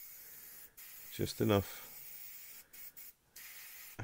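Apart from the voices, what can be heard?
spraying paint over a Revell Lockheed Ventura model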